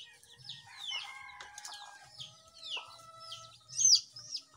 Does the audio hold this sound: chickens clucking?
yes